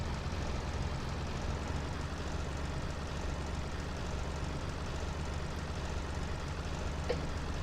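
Tractor engine and baler machinery in Farming Simulator 17 run as a steady, dense low drone with mechanical texture, constant and fairly near throughout with no talk.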